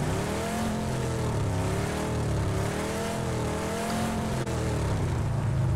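A video-game car engine drones continuously and close, its pitch wavering up and down as the vehicle revs and cruises, with no speech over it.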